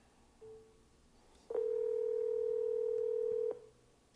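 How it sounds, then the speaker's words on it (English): A telephone auto-dialer sounds a brief tone, then a steady two-second steady tone, clear and close with no talk. "So, all right, I'm going to start the dialer right now."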